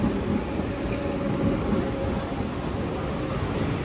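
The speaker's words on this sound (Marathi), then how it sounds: "ही आली नाला सोपाऱ्याची ट्रेन" A local train bound for Nala Sopara rumbles in, wheels clattering steadily on the rails beneath a broad, continuous roar, with no talk.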